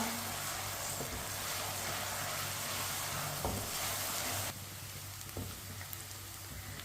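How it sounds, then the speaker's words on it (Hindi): Onions browning in oil over medium heat and stirred with a spoon, producing a soft, even sizzle with a few light scraping taps, fairly quiet throughout. "प्याज को हल्का सा ब्राउन कर लेते हैं, ऐसे ही चम्मच लाते हुए।"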